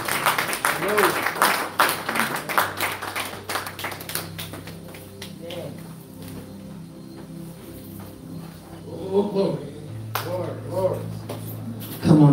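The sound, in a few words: congregation clapping hands in church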